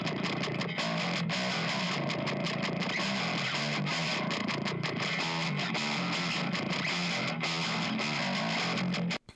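A heavily distorted bass recorded through a Diezel amp grinds out a thick, gritty tone, loud and continuous, playing alone before cutting off abruptly at the end.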